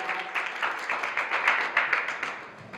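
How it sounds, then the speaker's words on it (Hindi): Applause rises from the audience at a village tournament player auction, a steady patter of many hands clapping, moderately loud, tapering off at the end. "बजाय इस सोसाइटी के लिए जोरदार तालियां"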